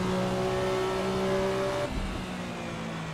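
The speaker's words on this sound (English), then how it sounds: "with no boost, the engine's very docile" A Porsche 962 race car engine running without boost in Assetto Corsa holds a steady, smooth drone with tonal whine, then eases off and settles into a lower, calmer hum, with no talking.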